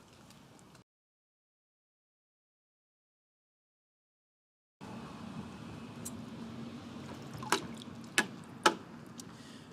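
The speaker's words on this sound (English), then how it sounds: "You just take your hose and fill it up with water." Water runs from a garden hose into a car-wash bucket, a steady, close rushing hiss after a stretch of silence, with a few sharp clinks near the end.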